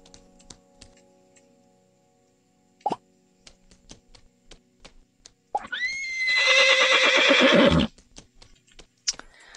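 A horse in the video game Horse Riding Tales lets out one loud, drawn-out whinny near the end, preceded by soft plopping hoof and clicking interface sounds in an otherwise quiet game scene.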